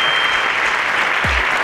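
Audience at a school quiz show applauding a correct answer, a dense steady clapping that fills the whole moment, fairly loud and unbroken, with no voices over it.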